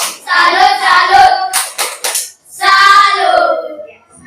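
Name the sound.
group clapping a salute clap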